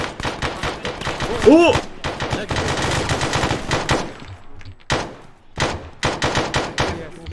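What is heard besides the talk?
gunfire in ArmA video game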